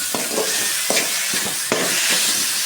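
Raw mango rice being stirred and mixed in a hot pan, loud steady sizzling with several rhythmic spatula scrapes close by.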